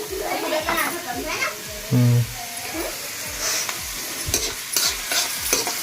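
Onions stirred in a hot pan on a home stove, a spoon scraping and clattering in bursts over a soft sizzle while children chatter nearby.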